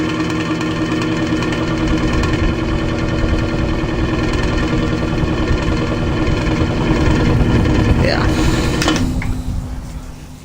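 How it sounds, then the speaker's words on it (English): An electric fan with badly misaligned blades and a loose motor runs with a loud, steady mechanical hum and rattle up close, then cuts off and spins down near the end. "Blades are badly out of line and the motor needs to be tightened down."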